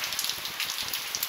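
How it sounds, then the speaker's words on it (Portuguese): Heavy rain pouring down in a street, a loud, dense and steady hiss of drops hitting surfaces, continuous throughout with no voices. "agora a chuva pegou mais forte"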